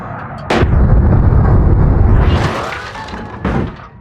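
A car slams into a truck in the BeamNG driving game, a loud, sustained crunching crash with heavy rumbling and metal scraping, followed by a sharp impact near the end, up close with no talking.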